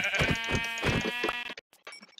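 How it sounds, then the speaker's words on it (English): Sheep bleating in the Minecraft video game: several close, loud, wavering bleats in quick succession, then a short gap and a couple of fainter bleats. "Found a sheep."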